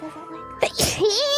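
One sharp, close sneeze bursts out suddenly, and a voice speaks right after it.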